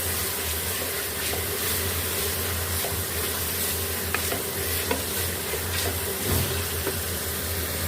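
Minced meat frying in a pan with turmeric and ground coriander, a loud continuous sizzle with repeated scraping stirs and light clinks nearby.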